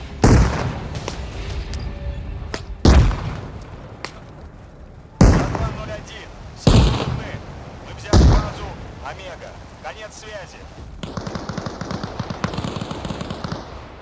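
Several heavy frag grenade blasts boom in ArmA Reforger, each a sharp loud burst with a rumbling tail, spaced a second or two apart over steady battlefield ambience, with a gunfire rattle near the end.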